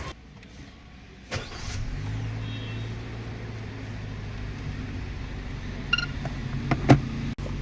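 A parked car's engine starts with a sharp catch and settles into a steady, close idle hum as it pulls away, with a few light mechanical clicks near the end.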